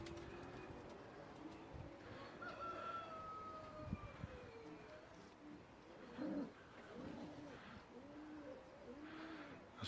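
Pigeons coo softly in an aviary, low rounded calls rising and falling in a repeated rhythm, faint and fairly close against quiet background noise.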